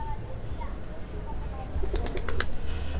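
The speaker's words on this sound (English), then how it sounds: "Pigeons have come to see me." Pigeons cooing close by in Leicester Square, London, a few soft coos in the second half over steady outdoor city hum.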